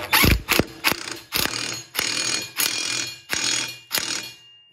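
An impact wrench fastens the impeller on a Billy Goat leaf vacuum, firing about eight loud, rapid rattling bursts in a steady rhythm with short pauses between them, close up and with no talk.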